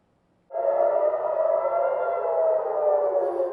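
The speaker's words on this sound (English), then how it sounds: "In Tel Aviv, air raid sirens signal another night of missile attacks from Iran." An air raid siren in Tel Aviv, warning of Iranian missile attacks, starts abruptly after a brief quiet and wails loudly and steadily, holding a sustained tone to the end.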